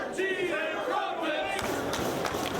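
Crowd at a professional wrestling event in Dayton, a chanting roar of many voices that swells into louder cheering and shouts, with a few thuds near the end.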